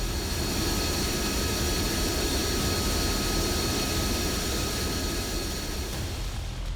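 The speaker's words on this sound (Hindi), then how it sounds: "दोपहर 1:39 पर विमान ने रनवे नंबर 23 से उड़ान भरी।" Air India flight AI-171, a jet airliner, takes off from runway 23 at Ahmedabad. A loud, steady engine roar fills the whole stretch without a break, and no voices are heard.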